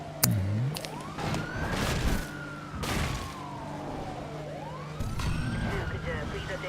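A police car siren in the racing game Need For Speed World, wailing up and down in long sweeping rises and falls over engine noise, with a voice talking at times.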